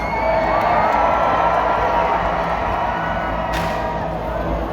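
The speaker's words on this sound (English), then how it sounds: "And the crowd goes nuts." A large crowd roars and cheers steadily at a live jousting tournament as knights break lances, a dense, loud wall of shouting and whooping that holds for several seconds.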